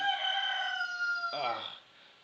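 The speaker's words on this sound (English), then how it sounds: "I keep chickens at my house, so yeah." A backyard rooster crows in the background, a sustained harmonic call that breaks into a rougher, lower ending before fading out.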